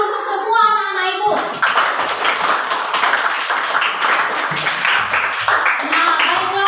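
Schoolchildren in an Indonesian elementary classroom clap for their classmates' group project presentations, a loud, lively burst of many small hands with scattered children's voices and a teacher's voice talking over the clapping.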